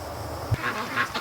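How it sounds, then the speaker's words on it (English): Free-range ducks at a lake give two or three short quacks close by over a low outdoor background. "What a cute little duck."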